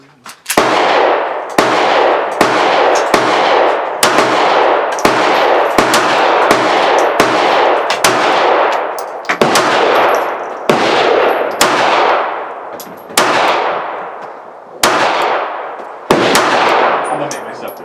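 Rapid string of loud, sharp gunshots from a Ruger LCP Max .380 ACP pistol, about a dozen cracks with short uneven gaps, each ringing off briefly, emptying a magazine at an outdoor range.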